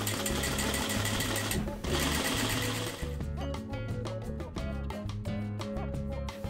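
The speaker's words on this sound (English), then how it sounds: "you can do a nice little stitch close to the edge along here" A sewing machine stitches close to the edge of wide-leg pleated pants, first in a dense continuous whir, then in slower, distinct stitch pulses, loud and close throughout.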